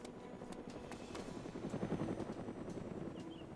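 A helicopter in the video game DayZ Origins flies with a steady, rapid rotor thump and a whining hum that swells toward the middle, then eases slightly, with no talking over it.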